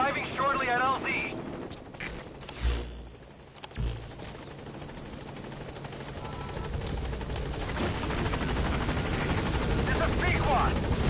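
A helicopter arrives at a landing zone in the video game Metal Gear Solid 5, its rotor rumble building steadily louder after a few sharp impacts, with a voice speaking over the start.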